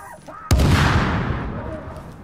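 Gunfire in the video game Tom Clancy's The Division: a single heavy, booming shot cracks loudly after a brief stretch of faint talk, then rolls away in a long decaying echo.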